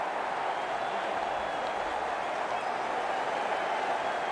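Crowd applauding at a cricket match, a steady, distant wash of clapping and crowd noise with no break.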